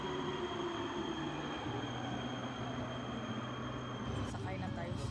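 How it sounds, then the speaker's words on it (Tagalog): Steady rumbling hum of a metro tram ride in Prague, a continuous rail drone with a faint high whine, rising briefly near the end, with a voice speaking over it. "Sakay na tayo sa metro tram."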